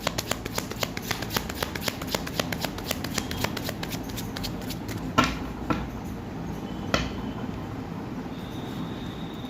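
Tarot cards are shuffled and drawn by hand in a steady run of soft, rapid riffling flicks, ending in a few sharper snaps and slaps as cards fall out.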